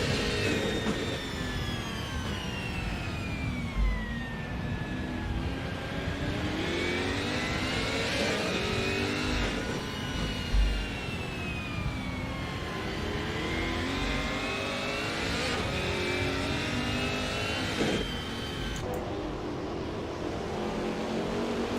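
Race cars in an ATCC sim racing game at Oran Park rev hard and sweep past in a continuous loud stream, engine pitch rising and falling through gear changes, with several cars overlapping.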